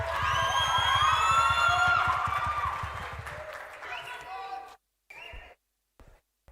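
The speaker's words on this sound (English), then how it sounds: "Please give a warm round of applause to Honorable Komeni Hayes." An audience at a tertiary-level debating competition applauds, a dense clapping wash that slowly thins and fades out. A few scattered claps and a voice follow after it.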